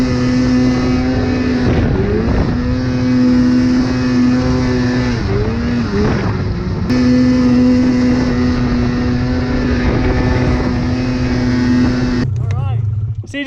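A vintage mountain snowmobile engine at 10,000 ft revs loud and close, holding a steady high-pitched whine with brief dips and pitch swings before cutting off near the end.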